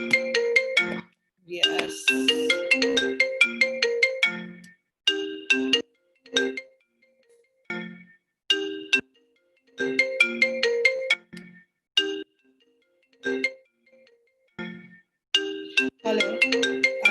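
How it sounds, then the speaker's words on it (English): A Skype ringtone rings on a computer in repeated melodic phrases separated by short pauses, loud and close, with a brief spoken word partway through. "I think it was a Skype call from somebody."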